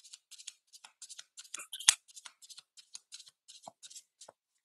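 Tarot deck being shuffled by hand, a run of quick crisp riffling bursts with brief gaps, close and fairly quiet, with no talking.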